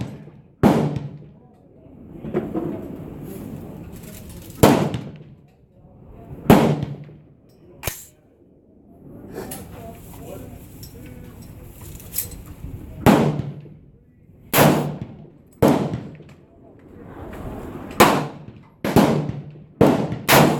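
A rifle fires at a 200-yard target, giving sharp, fairly distant reports spaced a few seconds apart in a steady series, with faint background noise between shots.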